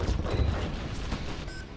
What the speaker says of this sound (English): That one's got a Gatling cannon on it.